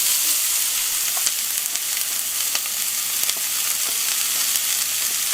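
Onions and jalapenos saute in olive oil on a hot griddle, producing a loud, continuous close-up sizzle with small pops and crackles throughout.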